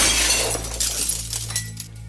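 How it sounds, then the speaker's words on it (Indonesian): Window glass of a stone house shatters loudly in a single burst, with tinkling fragments trailing off over a low steady hum. "jendela batu pecah"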